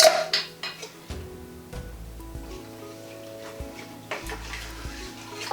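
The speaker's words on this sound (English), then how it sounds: "And then I'm going to drain the chickpeas." Liquid from canned chickpeas drains out in a loose splashing pour, with clinks of the can and pan near and close, while a curry of sweet potato and spinach waits in the pot.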